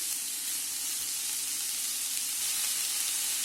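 Vegetables for momo soup stir-frying over high heat in a pan, a steady, close, bright sizzle that holds without a break, with faint stirring underneath and no talking.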